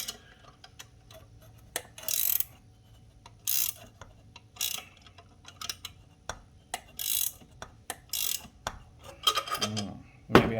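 A case splitter being tightened on chainsaw crankcases during a custom saw build, giving irregular metallic clicks and ratcheting turns, some sharp and close, spread across the stretch with faint background noise between.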